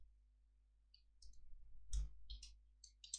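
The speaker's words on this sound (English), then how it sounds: "I'm going to just type in the name of my friend" Keys on a computer keyboard clatter in short quiet bursts as a name is typed, with a low electrical hum between the bursts of clicks.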